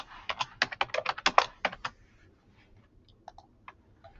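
Typing on a computer keyboard to enter a folder name: a quick burst of close, crisp key clicks for about two seconds, then a few sparse, lighter taps.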